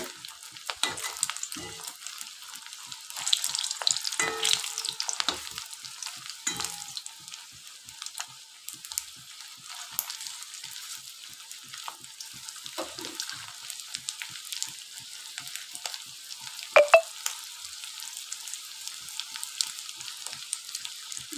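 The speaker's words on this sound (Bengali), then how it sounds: "এইভাবে আমি সবগুলো ভেজে তুলে নেব।" Rice koftas frying in hot oil, a soft continuous crackle and sizzle with scattered sharper pops and occasional stirring clinks, close and fairly quiet throughout.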